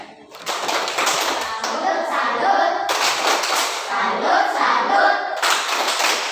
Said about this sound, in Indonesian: Mari kita tepuk salut untuk nona